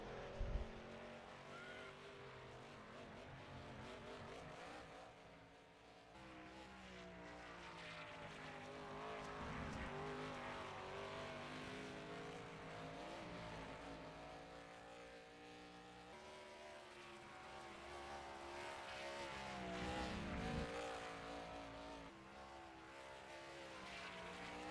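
Race cars roar continuously in NASCAR Racing 2003 at a Grand Prix of the Bluegrass road-course event, with one car trailing smoke into the last corner; layered engine drones swell and fade as cars pass, loud and steady throughout.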